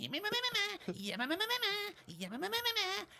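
A voice imitates the sound of Stevenson's Rocket steam locomotive with a series of wavering, bleat-like vocal cries, close and clear.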